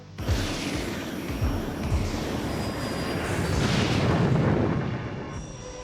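Loud, steady roar of a private jet's engines in flight, a broad rumbling drone that swells slightly toward the end, with no voices.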